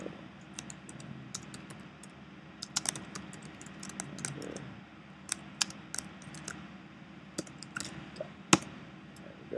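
Fingers type on a computer keyboard in quick, irregular bursts of close, crisp key clicks over a low background hum.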